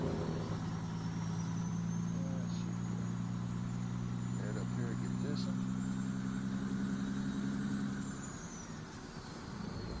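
A truck's engine drones steadily in Farming Simulator 17, hauling bales on a farm, with a low, constant mid-range rumble and a faint high whine that eases slightly near the end, while someone talks over it.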